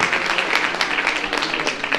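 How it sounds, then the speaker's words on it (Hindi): Applause from an audience welcoming a guest at a free cataract surgery camp in Vrindavan, Mathura, with a short, steady burst of clapping filling the moment. "जोरदार तालियों से हम स्वागत करें।"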